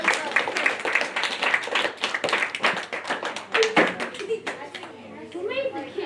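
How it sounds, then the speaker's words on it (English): A small audience of students claps warmly and densely for several seconds after a marionette presentation. The applause then fades as children's voices and nearby chatter take over. "But why don't you give Addie a round of applause?"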